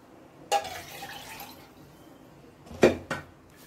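Lentil water splashes briefly into a pot of rasam, with a few clinks of metal cookware; short bursts separated by quiet.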